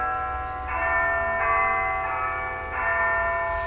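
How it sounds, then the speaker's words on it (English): The Big Ben clock tower bell in London rings out in sustained metallic strikes, about three overlapping tolls that ring on and decay, heard at a distance with no talking. "Every hour this big bell sounds"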